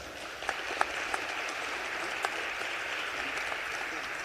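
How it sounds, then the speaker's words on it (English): Members in a General Assembly chamber applaud as a continuous, even wash of clapping, heard from some distance at a soft level with a few sharper claps standing out. "Let's give him a round of applause."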